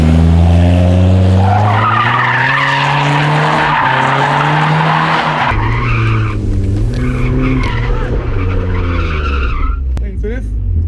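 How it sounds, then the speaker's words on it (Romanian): A car drifting through a corner lets out a long, loud squeal of skidding tires that rises and falls with the engine's straining revs, heard up close. "să auzi punctul în care mașina e într-o turație în care rupe aderența"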